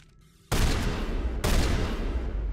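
Two loud, booming shotgun blasts from the Mass Effect video game, about a second apart, each spreading into a dense rumbling roar that fills the short stretch.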